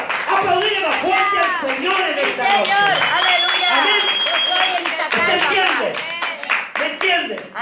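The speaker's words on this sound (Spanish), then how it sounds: "Aplaudir más fuerte al Señor" A church congregation claps and applauds loudly and steadily, with voices calling out and a preacher speaking over the sustained clapping.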